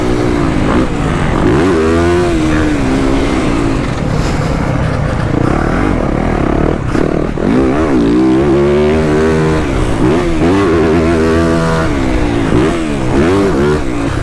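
A 2023 Yamaha YZ450F motocross bike's engine runs loud and close, its revs rising and falling repeatedly in steady throttle sweeps, with no talking over it.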